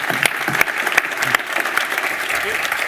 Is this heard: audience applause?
yes